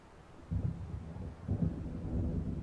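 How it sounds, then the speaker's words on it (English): Low rolling thunder of an approaching storm in the game Alan Wake Remastered, two deep rumbles swelling a second apart over a faint windy background. "It seems there's a storm coming."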